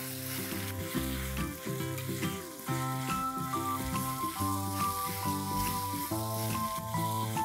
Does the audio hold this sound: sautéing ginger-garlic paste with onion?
yes